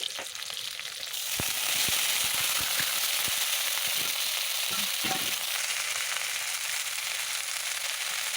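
Shrimp dropped into hot oil with already-fried onions and garlic for a vegetable dish, giving a loud, steady close sizzle with a few sharp pops and crackles early on.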